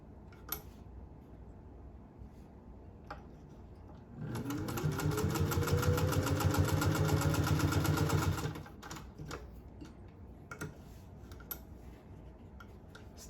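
A restored vintage Singer 201-2 sewing machine with a potted motor stitches through two layers of denim, a steady mechanical whirr and rapid needle clatter running for about four seconds, close and loud, framed by quiet handling noises.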